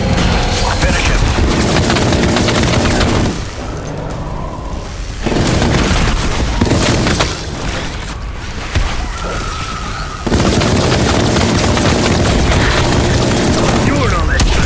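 Death Machine minigun fire in Call of Duty: Black Ops Cold War, a loud, dense barrage of booming gunfire and blasts that runs in long bursts, drops away briefly twice, then resumes, with voices talking over the combat.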